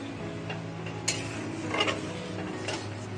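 A spoon stirs Gobindo Bhog rice payesh in a pot of thickened milk, giving soft scraping and light tapping against the pot in a few quiet, irregular strokes.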